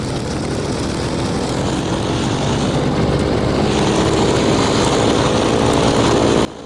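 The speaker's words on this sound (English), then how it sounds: "that noise is the R2800 in the Corsair running up" A loud, rough Pratt & Whitney R-2800 radial piston engine on a Corsair fighter plane roars steadily during run-up and builds slightly in intensity, close by, then drops off abruptly at the end.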